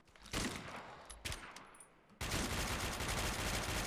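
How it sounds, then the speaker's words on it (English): Shotgun blasts in the video game Warmode, a couple of close punchy shots followed by a dense burst of rapid gunfire, loud with no talk over it. "Shotgun."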